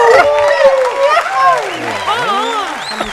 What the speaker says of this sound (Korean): 함성을 마이크 좀 피해 주세요